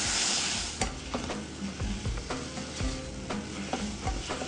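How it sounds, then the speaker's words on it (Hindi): Eggplant sizzles in a pan with salt, crushed red chili and balsamic vinegar, while a utensil scrapes and clicks against the pan in irregular stirring strokes, close and with no talk. "इसको जल्दी से फ्राई करें।"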